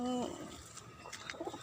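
A pigeon gives a short, low coo right at the start, close by in a home garden among fruit trees and vegetable plants, followed by faint rustling background noise.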